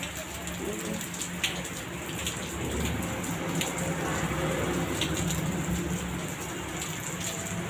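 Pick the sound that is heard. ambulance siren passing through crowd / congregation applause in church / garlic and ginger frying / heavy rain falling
heavy rain falling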